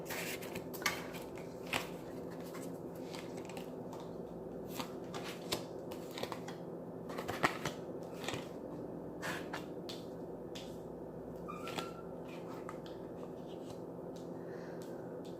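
Tarot cards handled and laid out on a surface, soft scattered taps, slides and flicks spread irregularly over a quiet, steady background, close and faint, with no speech.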